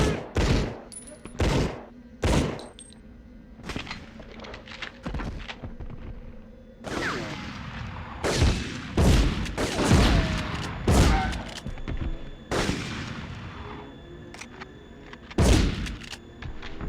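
Bursts of strafing gunfire in the World War II shooter Medal of Honor on PlayStation, loud rapid volleys and heavy thuds repeating in clusters across the stretch, with brief quieter gaps between them.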